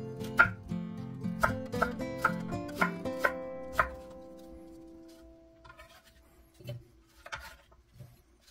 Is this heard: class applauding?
no